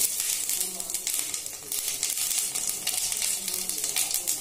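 Cumin seeds sizzle and crackle in a spoonful of hot oil in a kadai, a continuous close hiss with brief bursts that runs the whole time without talk.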